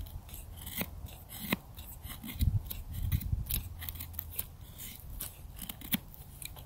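A Kizlyar Supreme Echo knife with a Bohler K340 blade shaves curls from wood in quick, rhythmic strokes, each pass a short crisp rasp. The sound is close and quiet, with light handling noise between strokes.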